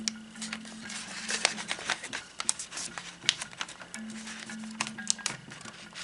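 Paper being creased and folded by hand into a two-section origami box organizer, with close, crisp crinkles and soft scraping taps scattered irregularly and fairly quiet.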